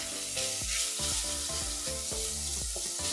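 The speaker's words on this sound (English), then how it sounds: "I've got it on pretty high heat right now just to get the Italian sausage browned." Italian sausage browning in a pot over high heat, a loud, steady hiss of frying with rhythmic metallic scraping from stirring, up close and without talk.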